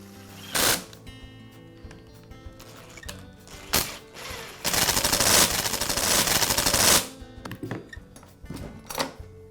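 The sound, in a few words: screws being driven to secure chainsaw starter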